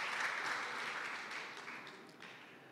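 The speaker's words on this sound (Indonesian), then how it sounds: "Tepuk tangan dulu untuk kita semua." Audience applause at an Indonesian youth leadership event, steady clapping from a room of people that slowly fades, heard somewhat faintly and at a distance.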